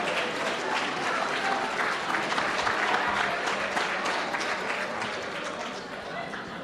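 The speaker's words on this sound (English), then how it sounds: "give yourselves a round of applause for all the participation that you had in this excellent event" Sustained applause from an audience at a corporate leadership luncheon, dense steady clapping that holds throughout and slowly tapers near the end.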